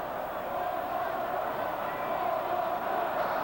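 Stadium crowd at a college football game between Michigan and Ohio State in 1986, a loud, continuous roar of distant voices filling the whole stretch with no pauses.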